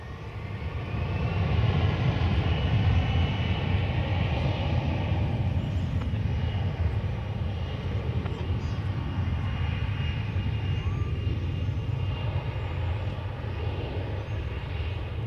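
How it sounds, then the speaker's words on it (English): An American Eagle Embraer 170 regional jet rolls for takeoff at Dallas Fort Worth airport, a steady, broad, distant engine roar building and holding throughout with faint background chatter. "American Eagle 3823 to Laredo, Texas is poised to take off"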